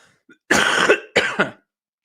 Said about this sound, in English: I'm going to cough quick